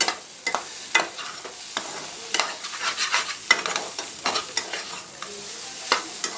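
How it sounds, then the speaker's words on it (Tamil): Scrambled egg podimas is stir-fried in a pan, a soft steady sizzle broken by repeated scraping and tapping of a spatula against the pan, close and fairly quiet. "நான் இன்னும் கொஞ்சம் ட்ரையாக வறுக்க போகிறேன்."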